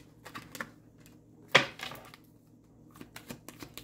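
Tarot cards being shuffled by hand, a series of light quick riffling clicks with one sharp louder snap near the middle, close and clear with no talking.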